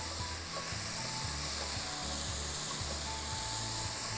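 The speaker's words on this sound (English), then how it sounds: "Now we're gonna go ahead on and add our garlic. We're gonna let this saute real quick, put it on our pan." Garlic sautéing in a pan for cabbage rolls, a steady broadband sizzle with faint scraping and clicking from stirring, continuous and fairly quiet throughout.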